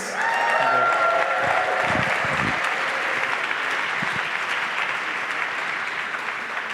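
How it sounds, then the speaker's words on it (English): Loud crowd applause with some cheering for a band at the Ulster Hall during the Northern Ireland Music Prize 2021, a dense sustained clapping that slowly eases, with a few brief voices underneath. "Big cheer for them, please"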